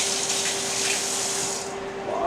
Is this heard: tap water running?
yes